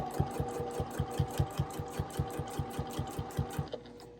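Sewing machine stitching binding along the edge of a quilt, a steady close mechanical chatter of rhythmic needle strokes with a low motor hum, running alone without talk before slowing at the end.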